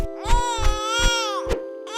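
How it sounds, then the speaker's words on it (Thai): An infant cries in a series of loud, close wails, each sob rising and falling with short gasps between, sounding out at night from a pile of garbage. "ทำไมแถวนี้ถึงมีเสียงเด็กร้องได้"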